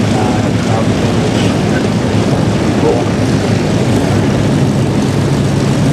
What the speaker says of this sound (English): Taxiing down, we've got one of the most famous surviving Spitfire today